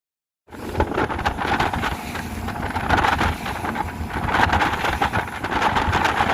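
Gusting wind buffets the microphone on a wet, windy day near a waterfall at Hellesylt, Norway, a steady loud roar with rushing swells and no speech throughout.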